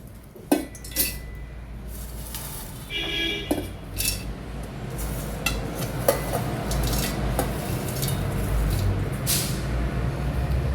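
Dried shrimp, roasted, tipped into a mixer-grinder jar, giving scattered clinks and rattles against the jar over a steady background hum, with no talking.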